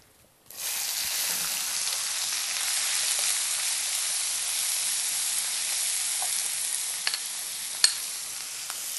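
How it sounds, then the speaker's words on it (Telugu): Chopped onion frying in a pan for a Gujarati potato curry, a sudden loud sizzle starting after a short silence, then a dense, even hiss that holds steady with a couple of faint clicks and one sharp tap, close by with no voices. "ఉల్లి తరుగు వేస్తున్నాను ఇప్పుడు."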